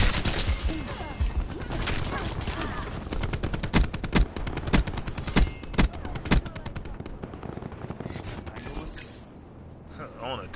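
Rapid gunfire from Call of Duty Black Ops 4 gameplay, dense automatic bursts and sharp single shots rattling loudly throughout before thinning out near the end.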